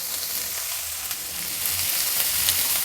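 Curry leaves dropped into hot oil, a steady bright hiss of sizzling that swells slightly toward the end, close and continuous with no talking.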